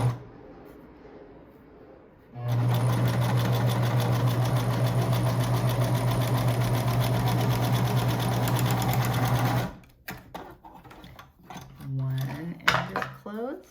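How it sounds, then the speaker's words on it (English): A sewing machine runs a wide zigzag stitch along the edge of a silk mask, a steady loud mechanical whir for about seven seconds, then stops, followed by scattered handling clicks and rustles. "Now it's time for a zigzag stitch, which is a super wide stitch, and it's just going to basically close the ends of the fabric together."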